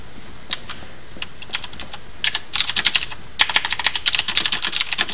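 Rapid computer keyboard typing in bursts of clicky keystrokes, sparse at first and then dense and steady, close and fairly loud during an online game session.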